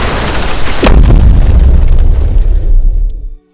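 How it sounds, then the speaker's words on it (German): A loud, deep explosion from the crash of cargo plane National Airlines Flight 102 booms and rumbles for a few seconds before cutting off abruptly. "mit einer lauten Explosion verwandelte sich alles in einen Trümmerhaufen."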